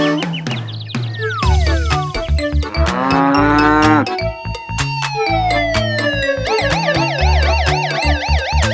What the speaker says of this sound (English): And Lola goes moo.